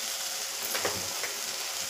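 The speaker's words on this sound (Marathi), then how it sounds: "इथं मी याच्यामध्ये एवढे तीळसुद्धा ॲड करून घेणार आहे" Sesame seeds sizzle in hot oil in a new kadhai, a bright, steady crackling hiss with a few small pops, close and continuous.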